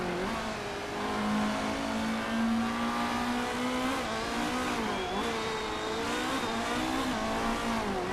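A GT race car in the Motorsport Manager racing game accelerates flat out, its engine note rising and shifting steadily in a loud, continuous drone with slight pitch dips and climbs.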